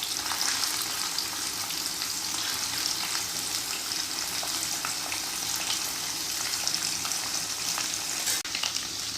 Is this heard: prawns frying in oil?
yes